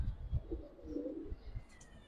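Giribaz pigeons in a loft cooing softly, low repeated throaty coos close by with faint background noise.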